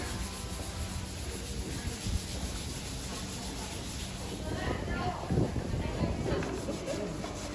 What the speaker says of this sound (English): You can see how all these pieces are sanded completely by hand